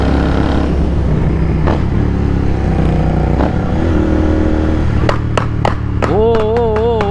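A Royal Enfield GT650 motorcycle's loud exhaust drones steadily, and near the end it revs repeatedly in quick sharp bursts, up close and alone.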